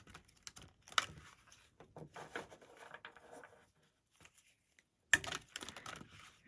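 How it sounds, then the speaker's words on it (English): Oracle cards being shuffled by hand, soft close papery riffles and flicks in irregular bursts with quiet pauses between. "I personally like the sound of the cards shuffling."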